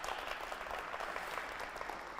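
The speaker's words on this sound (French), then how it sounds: "Applaudissez pour vous depuis la maison." Steady applause from a television studio audience, fairly faint and continuous, with no voices standing out.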